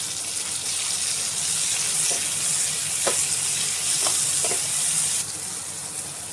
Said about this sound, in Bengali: তো গরম তেলে দিয়ে দিলাম একটু বড় বড় করে কেটে রাখা পেঁয়াজ